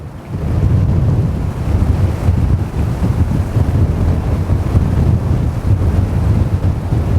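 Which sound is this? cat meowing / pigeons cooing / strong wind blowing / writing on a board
strong wind blowing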